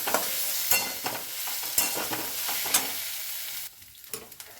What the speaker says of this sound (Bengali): এগুলোকে একটু ভালো করে মিশিয়ে নিতে হবে